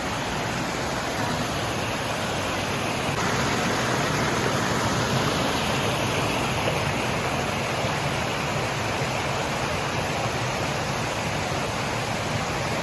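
Shypit waterfall roars as a steady, dense rush of falling water, loud and continuous throughout, with no voices.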